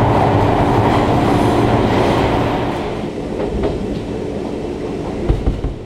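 A train riding on rails in Japan, heard from inside with a loud continuous rumble and rhythmic clickety-clack of the wheels, easing slightly in the second half, with a few knocks near the end and no talk.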